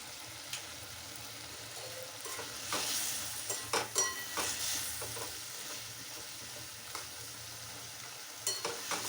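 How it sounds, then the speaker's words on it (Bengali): Spice masala being fried and stirred in a pan for a cabbage curry in a home kitchen, with steady soft sizzling and scraping stir strokes, a few louder clatters midway, no talking. "মশলাটা ভালো করে কষা হয়ে গেছে।"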